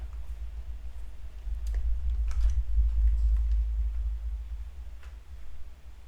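Sparse, faint computer keyboard clicks sound while Python code is typed, with a handful of separate keystrokes over a steady low hum.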